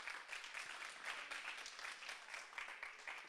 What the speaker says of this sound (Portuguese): Pode aplaudir, sim.